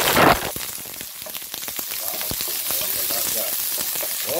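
Garlic and onion sautéing in a hot pan, a busy close sizzle full of crackling pops and spatters, steady and loud after a sharp burst at the start.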